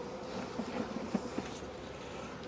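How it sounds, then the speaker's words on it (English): Honeybees buzz around an overwintering hive in Connecticut, a faint, steady hum with a few brief louder passes up close, no talking over it. "There's still some bees here."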